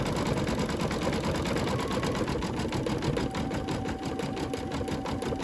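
An embroidery machine stitches eyeballs onto a Halloween towel, running over existing stitching with a steady, rapid mechanical chatter that continues throughout at close range.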